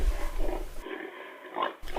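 A pig grunts and oinks close by in short bursts, with a brief quiet gap before a final snort.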